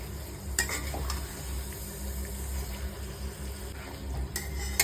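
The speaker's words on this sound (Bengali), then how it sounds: "আলু আর চিকেন একসাথেই কষাচ্ছি" Potatoes and chicken being stirred in a hot pan give a soft, continuous sizzle with a few scraping clinks of a utensil against the metal, close and fairly quiet.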